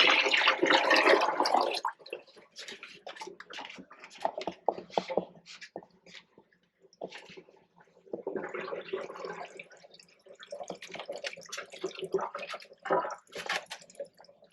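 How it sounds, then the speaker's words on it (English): Water draining from a kitchen sink through the drain pipes of a camper slide-out, heard as loud gurgling, rushing bursts that start strong, fade into irregular trickles and splashes, pause briefly, then surge again. "Hear that water going through all those pipes and going in."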